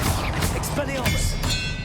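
The Expelliarmus spell is cast in Hogwarts Legacy, giving a series of loud thuds and whooshing hits in quick succession amid busy, close combat effects.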